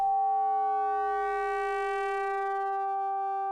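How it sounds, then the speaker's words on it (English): A synth pad holds a sustained, clean, ring-modulator-like tone in which a modulator's pitch envelope makes the partials sweep slightly at the onset before settling into a steady, bright chord of pure harmonics. "it's tracking the pitch only of this modulator, which is giving it that kind of ring modulator sound"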